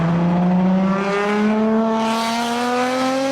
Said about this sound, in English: The Exige uses a supercharged 4-cylinder engine, so instead of the deep rumble of a big V8, you get a much lighter and higher-pitched engine note